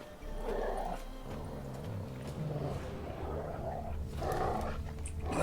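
Dogs in The Witcher 3 growl and snarl in low, rough bursts, swelling twice over a steady game ambience, fairly faint and with no talk.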